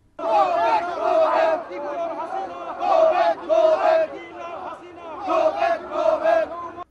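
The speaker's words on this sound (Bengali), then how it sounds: "এ সময় তারা প্রধানমন্ত্রী সফরের বিরোধিতা করে বিভিন্ন স্লোগান দিতে থাকে।" A protest crowd in London chants slogans against the Prime Minister's visit. Many voices shout in loud, rhythmic bursts, rising and falling in repeated waves with short gaps between phrases.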